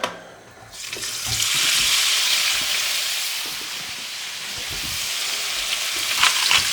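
Beef for a steak and Guinness pie hits a hot pan, and a loud, close sizzle swells up after a brief quiet start, then hisses steadily with a few utensil scrapes.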